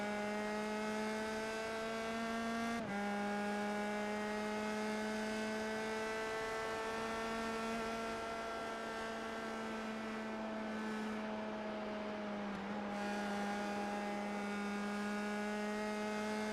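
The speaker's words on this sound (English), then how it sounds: "you can hear the car hitting the bumps at the transitions" Race car in the iRacing simulator droning steadily through a rough track, its engine a continuous harmonic tone broken by a couple of brief jolts as it crosses bumps.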